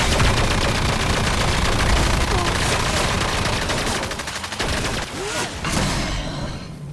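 Sustained gunfire in the sci-fi hunting game Evolve, a loud continuous rattle of rapid machine-gun shots that thins and stutters toward the end.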